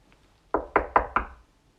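Four firm knocks on a door come in quick, even succession, close and clear against an otherwise quiet background.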